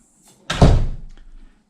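An Ace Hardware pneumatic door closer pulls a door shut, ending in a single loud, close thud that rings briefly before fading, with a faint click just before.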